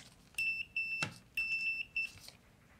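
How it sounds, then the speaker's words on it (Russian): A digital multimeter in continuity test mode beeps as its probes touch a breadboard's contact group, giving four short high electronic tones in two pairs, with a sharp click from the probe contact between them, in a quiet room. "Попросим его пищать, когда он будет детектировать 0 Ом, то есть короткое замыкание."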